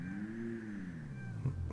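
A Pegassi Monroe sports classic in GTA 5, fitted with a race transmission, idles with a low, smooth engine purr whose pitch swells slightly and settles, heard alone.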